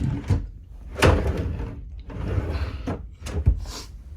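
Drawers on a cruise ship cabin vanity slide open and shut several times, each with a close wooden thud and a short scraping slide, at an uneven pace.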